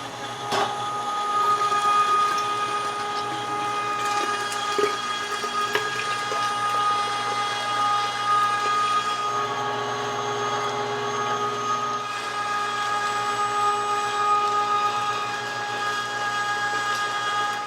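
A meat grinder churns raw goose meat with a continuous motor drone and a faint rattling whine, steady and close for the whole stretch.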